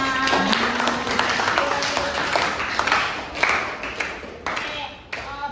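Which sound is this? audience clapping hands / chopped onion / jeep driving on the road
audience clapping hands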